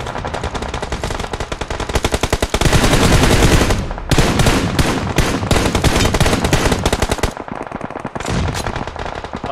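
Sustained automatic gunfire from a PUBG Mobile match on the Erangel map, with rapid bursts layered into dense, loud volleys and brief pauses between strings of shots, close and without talk.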